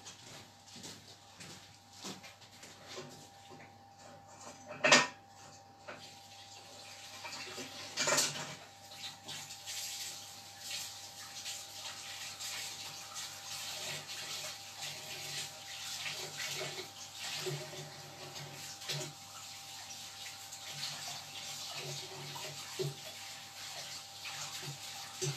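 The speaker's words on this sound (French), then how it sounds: "Je vais laver mon fouet." A tap runs steadily into a kitchen sink while a whisk is washed after cake-making. The water hiss holds throughout, with one sharp knock partway in and a brief clatter a little later, and no voices.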